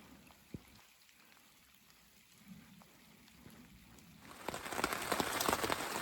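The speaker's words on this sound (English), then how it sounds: "We hastily put up our tent in the rain." Rain patters steadily on a tent in the Yellowstone backcountry, soft at first, then swelling into a much heavier, louder downpour in the final seconds.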